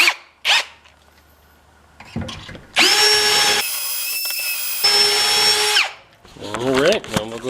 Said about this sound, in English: Make sure your drill bit's tight though.